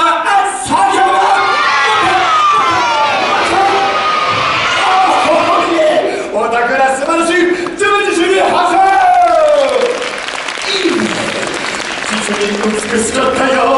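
A large crowd at a live Universal Studios Japan show shouts and cheers in loud, sustained waves, with children's and adults' voices mixed together and bursts of yelling rising and falling over one another throughout.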